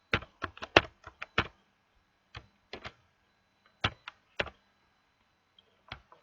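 Typing on a computer keyboard while entering code in Matlab: crisp, close key clicks in quick bursts, then sparser isolated taps with pauses between, no talking.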